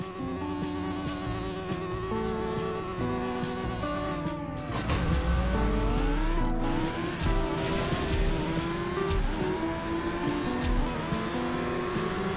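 Honda VTEC engine in the racing game CSR2 revving and shifting through gears, a buzzing, rising whine with pitch sweeps and tire squeal, loud and continuous with no talk over it.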